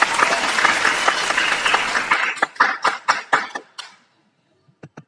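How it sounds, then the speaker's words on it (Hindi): A game show studio audience bursts into dense applause, which then thins to a few scattered, separate claps before stopping, with a couple of last faint claps near the end. "क्या बात है, लटका के झटका के एकदम सही जवाब है, तालियां।"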